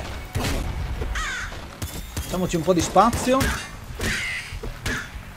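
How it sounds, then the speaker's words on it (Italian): Crows caw in Nuclear Throne amid game thumps and mechanical noises, several harsh calls close together, with someone talking over them. "Qua sono tornati i corvi."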